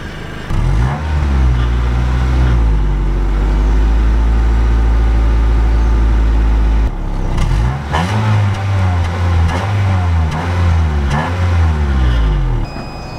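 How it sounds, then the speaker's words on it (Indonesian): An old 2004 Honda Jazz car engine runs loudly and close by, revving up and down repeatedly with rising and falling roars. "suara mesin mobilnya senyaring apa 2004, apakah masih bagus atau udah enggak"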